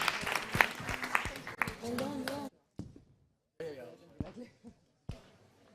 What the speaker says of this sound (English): We can give John another round of applause